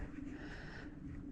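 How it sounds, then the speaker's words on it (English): Birds call in an open meadow at a conservation park, a soft cooing song that repeats in a steady, continuous run and stays moderately close, with no talking over it. "birds here in the open meadow."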